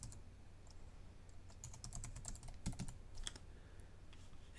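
Fast, light key clicks of typing on a computer keyboard, close and fairly quiet, in uneven bursts with brief pauses.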